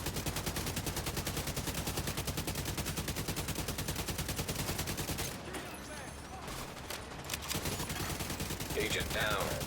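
A Division 2 player unloads with an automatic weapon: rapid, evenly spaced shots pour out loud and close for about five seconds, pause briefly, then resume, with occasional speech in the background.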